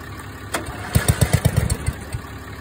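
Ride-on mower engine cranks and catches briefly in a rapid series of close, loud chugging pulses, then dies away after about a second of running.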